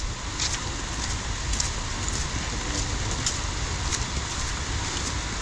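Heavy rain pours steadily outdoors on a cassava planting site, a loud continuous hiss with scattered sharper drip taps, with no talk.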